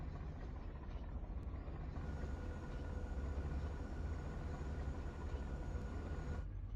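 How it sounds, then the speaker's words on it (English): A large cargo airship plane in the video game Sand Land approaches as a steady, loud engine drone with a deep low rumble, growing fuller partway through and then cutting off abruptly near the end, with no talk. "Wow, there's a weird plane headed our way."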